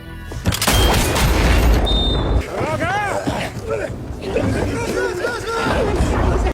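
Gunshots are fired at close range into bulletproof vests worn by yakuza bodyguard candidates, a burst of loud, booming reports early on. Voices and chatter follow over a noisy background.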